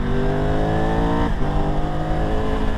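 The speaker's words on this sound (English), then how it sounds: "if I roll off the throttle like this, the bike kind of lurches forward" A 2022 Triumph Tiger 1200 Rally Pro motorcycle engine held on throttle, a loud steady whine with rising harmonics that dip briefly as the rider rolls off, then settle into a continuous hum.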